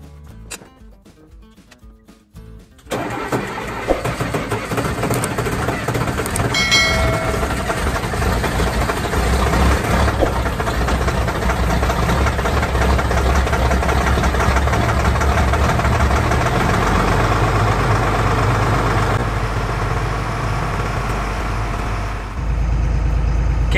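A military FMTV truck engine cold-starts with a short cranking, then catches and settles into a steady, loud diesel idle that runs on for about twenty seconds.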